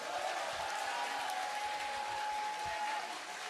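Applause from the audience at a presidential campaign launch press conference, a steady dense wash of clapping with no gaps that carries through the whole moment and fades slightly at the end.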